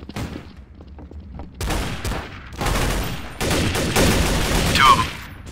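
Gunfire in Counter-Strike: Source on the Havana map, dense bursts of rifle shots and rattling automatic fire building over several seconds, loud and close, with no talk.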